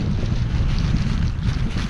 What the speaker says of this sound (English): It is very windy out today, and it is beautiful.